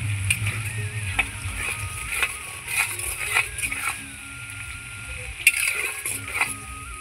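Dried chili, bay leaf, whole cumin, whole garam masala and onion fry in a wok, giving a soft steady sizzle broken by sharp clicks and scrapes as a spatula stirs. A voice talks quietly throughout.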